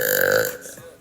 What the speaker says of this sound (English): Maybe I will burp.